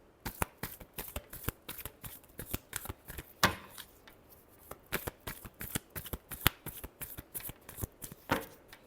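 A tarot deck shuffled by hand, producing close, rapid bursts of sharp card slaps and riffles in an uneven rhythm, with no voices.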